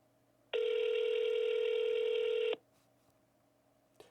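A telephone tone sounds steadily for about two seconds, then cuts off, leaving a faint quiet line with a small click near the end.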